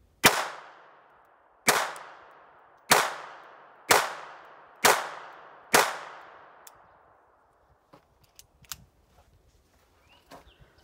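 Six sharp, loud gunshots ring out at an even pace about a second apart, each with a ringing metallic decay, followed by faint clicks and handling.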